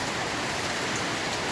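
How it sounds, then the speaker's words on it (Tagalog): Steady rain falls on the plants of an organic farm, a dense, even patter that fills the clip from start to finish with no voices over it. "Medyo umulan po ngayon, kaya medyo nakaluwag po kami sa pagpapatubig mga kasaka."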